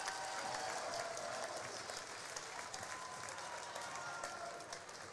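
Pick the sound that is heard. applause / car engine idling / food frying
applause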